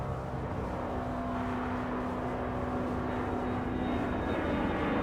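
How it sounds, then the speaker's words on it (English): In Max Payne 3, a plane flies in toward Newark Airport with a steady, loud engine drone and a broad rushing roar that holds constant throughout, close and without talk. "Plane coming in."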